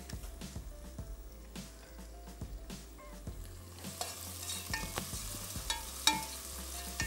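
Onions fry in a pan, a low steady sizzle punctuated by repeated spoon stirs and scrapes, growing slightly brighter and busier midway.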